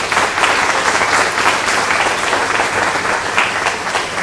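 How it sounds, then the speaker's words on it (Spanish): An audience at a lecture gives sustained applause welcoming a psychologist to the stage. The dense clapping stays loud and even throughout, with no voices over it. "Les pedimos un aplauso"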